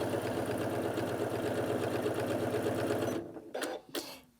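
A Janome Atelier 9 sewing and embroidery machine sews a straight stitch at a longer stitch length through several quilt layers, whirring in a fast, steady rhythm up close. It stops after about three seconds, followed by a few brief mechanical clicks.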